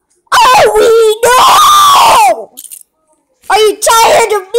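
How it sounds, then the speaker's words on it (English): A person screams loudly and close up in several long, wavering bursts, with a short pause before the final outburst, while playing with a Lego Mario set. "Are you tired of me screaming right into your ear?"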